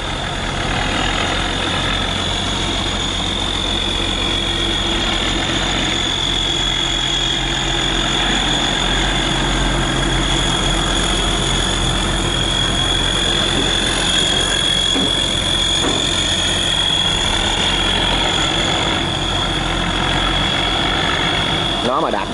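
A river barge's diesel engine runs steadily on a busy waterway, a loud continuous low rumble and vibration that holds for the whole stretch with no talk over it.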